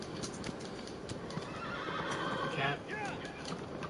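A horse in the video game Shadow of the Colossus neighs and whinnies over clip-clopping hooves, with someone speaking briefly over the sounds.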